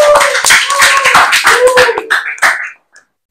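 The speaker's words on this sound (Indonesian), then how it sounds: "kasih aplaus" A classroom audience claps after a group presentation, a short burst of dense, close hand claps lasting a couple of seconds before tapering off into silence.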